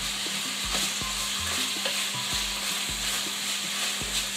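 Onions sizzle steadily in a hot pan while a utensil scrapes and stirs in regular strokes, close by.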